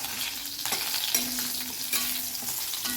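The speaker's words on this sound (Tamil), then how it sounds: "ஆயிலில் வறுத்தா அந்த பச்சை மிளகாவோட பச்சை ஸ்மெல் போய் நல்லா டேஸ்ட் கொடுக்கும் அதுக்காக நான் ஆயிலில் வறுத்துக்கிறேன்" Large green chillies frying in hot oil, a continuous near sizzle with a few louder stirring scrapes and spits, no voices over it.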